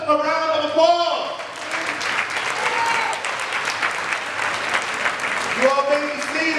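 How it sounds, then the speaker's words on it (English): An audience of breast cancer survivors applauds themselves at a celebration, a steady wash of clapping for several seconds with a voice speaking just before and again after. "Give yourselves a round of applause."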